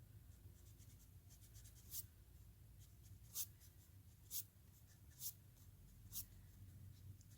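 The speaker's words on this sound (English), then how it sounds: "If you want, you can go ahead and erase those guidelines." Pencil guidelines on a tree drawing being erased on paper, with five soft, brief rubbing strokes at roughly one-second intervals over a quiet low hum.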